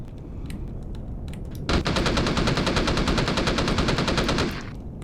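Rapid automatic gunfire from a video game weapon in Empyrion Galactic Survival, fired at wildlife: a sustained burst of evenly spaced loud shots lasting about three seconds, starting abruptly over a low ambient game background.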